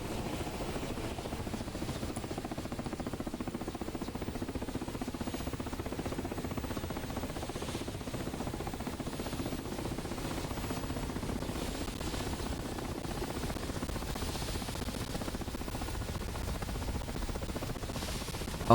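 A damaged Mi-8 helicopter in a video game drones steadily on a single engine, a continuous loud rotor-and-turbine rumble with no pauses and no talking.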